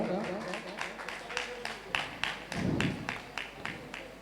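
A small audience at a speech contest final claps for a winner, with sparse rhythmic hand claps landing about three per second, fairly faint and roomy, alongside a brief murmur of voices.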